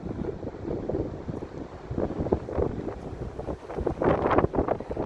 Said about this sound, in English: Man, the wind is crazy today.